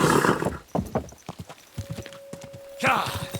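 Horse hooves clip-clop in a quick irregular rhythm, followed by a whinny, with someone speaking at the end, in the video game Kingdom Come: Deliverance II.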